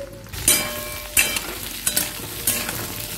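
Green chili and chopped garlic frying in a wok with a steady sizzle, broken by four sharp scraping stirs of a utensil against the pan at roughly even intervals, close and moderately loud.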